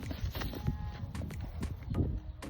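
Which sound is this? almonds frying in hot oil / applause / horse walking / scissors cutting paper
horse walking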